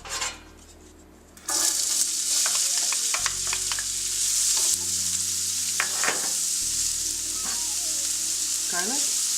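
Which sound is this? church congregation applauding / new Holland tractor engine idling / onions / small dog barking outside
onions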